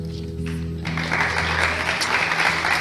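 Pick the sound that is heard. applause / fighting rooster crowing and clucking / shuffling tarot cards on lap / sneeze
applause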